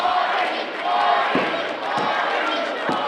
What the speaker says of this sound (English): The crowd chanting for Marti, Marti, Marti.